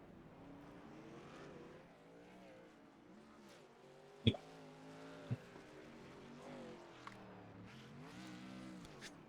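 Race cars in a Sonoma racing video game, engines droning steadily with rising and falling revs, broken by a sharp impact and a few brief tire squeals as the cars drift.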